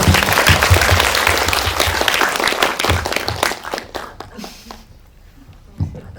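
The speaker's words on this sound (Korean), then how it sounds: "박수 부탁드릴게요" Audience applause at a film screening Q&A in a small indie cinema, loud and dense for about four seconds, then thinning to scattered claps that fade to near quiet, with one late clap.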